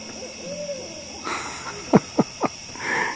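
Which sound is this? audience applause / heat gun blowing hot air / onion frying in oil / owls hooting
owls hooting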